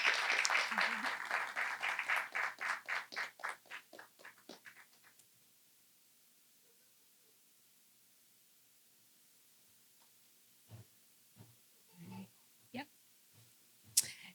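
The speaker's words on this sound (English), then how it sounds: "Let's give him a round of applause and some Louisville love." Audience applause at a talk on Black fatherhood and mental health in Louisville, a burst of clapping that thins into scattered claps and dies out after about five seconds, followed by near silence with a few faint sounds.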